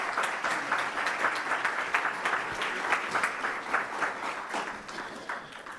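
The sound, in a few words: audience applause for a sign language interpreter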